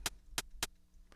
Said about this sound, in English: little burst of white noise